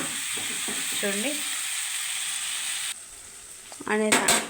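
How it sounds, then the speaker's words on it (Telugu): Masala spice powders fry in a pan with fish, tomato, salt and fennel, giving a steady broadband sizzle throughout, a few brief scraping stirs, and short voiced sounds rising near the end. "చూడండి, మసాలా బాగా వేగింది."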